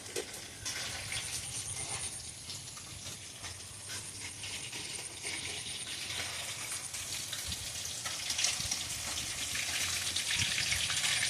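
Food fries in a pan at a home birthday meal, a steady broadband sizzle with wind noise from an open window, continuous and fairly close, with no voices.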